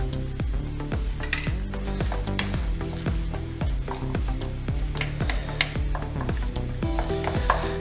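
Egg sizzling and frying in a pan at a Kozhikode beach-style street food stall, a steady crackle with repeated metallic scraping and tapping of a spatula against the pan at a regular beat.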